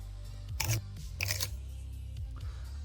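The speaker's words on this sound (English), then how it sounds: "that crunch sound is actually me crunching on those giant pickles from that video" Someone bites into giant pickles, giving two sharp, crisp crunches close to the mic about half a second apart, followed by quieter soft chewing noises.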